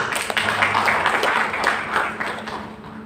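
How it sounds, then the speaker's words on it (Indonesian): A church congregation applauds, a dense, steady wash of many hands clapping that fills the room at moderate loudness, with faint voices mixed underneath. "Tepuk tangan untuk Tuhan Yesus."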